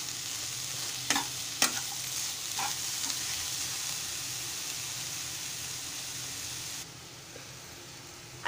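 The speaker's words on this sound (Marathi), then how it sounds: "आता एकजीव करून घेणार आहे व्यवस्थित" A mixture being stirred in a pan after cardamom powder is added, with a steady soft sizzling hiss throughout and a couple of brief scraping knocks early on, fairly quiet.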